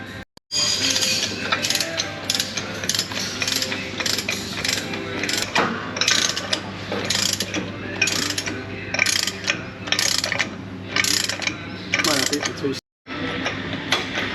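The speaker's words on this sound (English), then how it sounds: "And then they put the bolt, the nut in and tighten." Ratchet tightening a nut during a Ford F350 differential housing rebuild, with rapid repeated clicking bursts and short pauses throughout, loud and close over a steady hum.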